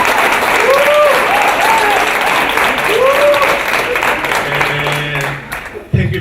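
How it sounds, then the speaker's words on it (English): A round of applause at a youth dialogue session on ethical leadership, dense steady clapping from the audience with voices speaking over it, fading slightly before a sharp final bump. "So can we give him a round of applause?"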